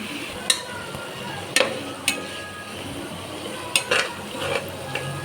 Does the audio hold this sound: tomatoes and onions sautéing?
yes